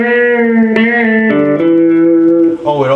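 A Telecaster electric guitar plays a short run of sustained clean notes through a Bugera 333XL 2x12 120-watt tube combo amp, each ringing clearly and close before stepping to the next pitch.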